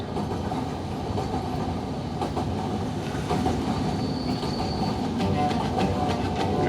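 A running passenger train rolls along the rails with steady clickety-clack and rumbling wagons, loud and continuous, with faint squeals and no talk over it.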